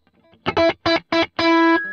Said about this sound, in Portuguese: Colocar um reverb aqui depois da caixa